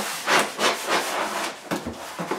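Cardboard being pushed and snugged into a window frame, a series of close scraping rubs and soft scuffs in short uneven strokes, followed by a couple of brief crinkling knocks.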